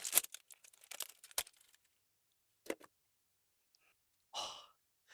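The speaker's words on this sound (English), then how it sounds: "And now let's unwrap this." A packaged Pinnacle Grooming product is unwrapped, giving a quick flurry of crisp crinkles and tearing rustles. A few faint, scattered handling sounds follow in an otherwise quiet, close setting.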